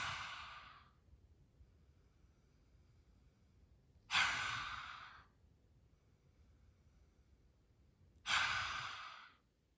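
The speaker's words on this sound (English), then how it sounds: "take a deep breath in through the nose." Three slow, deep breaths drawn audibly through the nose during a quiet vinyasa yoga session, each a soft airy rush evenly spaced by several seconds of near silence.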